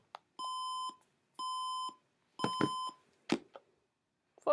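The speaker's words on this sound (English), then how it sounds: "who put my alarm on? I ain't had no alarm." Alarm clock sounding three evenly spaced electronic beep bursts, each about half a second long, followed by a few sharp clicks and knocks as it is switched off.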